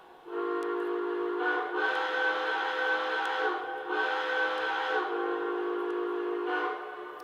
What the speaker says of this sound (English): Here's the whistle, for example.